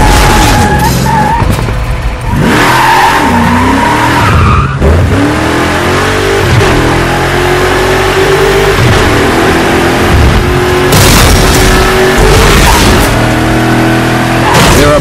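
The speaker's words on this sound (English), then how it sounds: "Flat spin your car, head for a ramp at top speed, then hit the e-brake to spin off the edge." In Burnout Paradise, a car races at top speed, slides into an e-brake flat spin and skids off a ramp edge. The engine revs loud and steady, and tires squeal and screech throughout.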